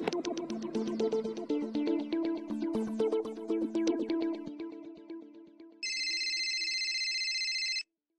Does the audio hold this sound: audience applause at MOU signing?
no